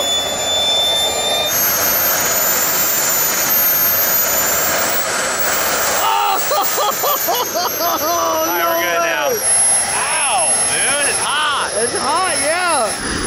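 A jet-turbine-powered R/C truck runs with a loud, constant high-pitched turbine whine and roar, its pitch sweeping up and down as the throttle changes, filling the whole stretch close by.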